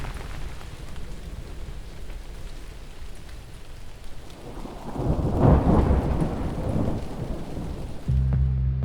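Heavy rain pours steadily in the backcountry after days of downpour, with a deep rolling thunderclap swelling midway and lingering under the hiss of rain.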